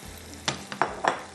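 Onion goes into a sizzling mutton masala, heard as a brief hiss under a few quick spoon knocks against the pan.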